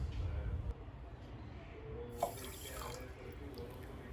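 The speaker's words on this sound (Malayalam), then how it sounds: "ഒന്നേകാൽ കപ്പ് വെള്ളവും ഒഴിച്ചു കൊടുക്കുന്നുണ്ട്." Water poured into a pot of sugar to make malpua syrup, a soft, brief splashing pour followed by faint trickling and drips, quiet and close.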